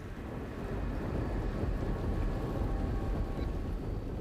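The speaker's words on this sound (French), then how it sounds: "Les pistes sont balayées par la pluie et le vent et les éclairs déchirent le ciel." Heavy rain and gusting wind roar steadily across airport runways, with a deep low rumble of thunder rolling underneath throughout as lightning strikes.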